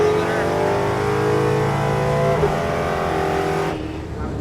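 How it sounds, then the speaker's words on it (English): A nitrous muscle truck's engine revs hard and steadily on a drag strip, droning loud and close as it holds against the rev limiter, then drops off sharply near the end. "I hit the rev limiter. Yeah, we heard it."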